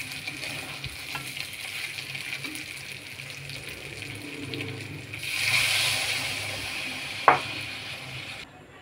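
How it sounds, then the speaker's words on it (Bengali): Chicken curry in a pan sizzles and fries steadily, with a louder gush of hissing as liquid is poured in partway through and a sharp clink near the end. "এখন আমি ঝোল দিয়ে দিব।"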